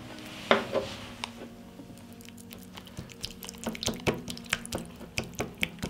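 A utensil whisks egg yolks and oil in a bowl for brushing khachapuri, giving quick light clinks and taps against the dish that grow denser toward the end, close by with no talking.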